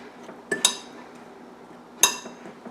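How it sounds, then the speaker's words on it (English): A fork cuts butter into biscuit dough in a bowl, making two or three bright metallic clinks against the dish, close and separated by quiet pauses. "I try to cut in the butter as much as I can and with a fork so that I don't melt the butter"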